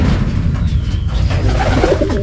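Steady racing pigeon cooing fills the clip, soft throaty coos repeating close by over a dense, rumbling background.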